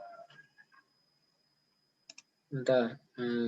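A single sharp click of the Enter key on a computer keyboard while entering values in a physics collision simulation, brief and close, preceded by soft speech fragments and followed by a person talking.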